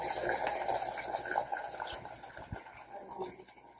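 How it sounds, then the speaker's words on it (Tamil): Tamarind water pours steadily into a pan for tomato rasam, a continuous splashing wash with a few small drips and clinks near the end. "நம்ம வந்து எடுத்து வச்சிருக்கிற புளி தண்ணிய ஊத்திடலாம்."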